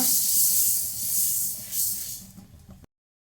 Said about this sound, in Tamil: எள்ளை கொட்டி நம்ம வறுத்துடலாங்க